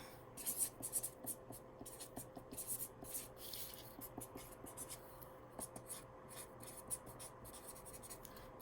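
A pen writes on a piece of leather for a handmade patchwork journal: soft, close scratching strokes in short irregular bursts, faint and steady with no talking.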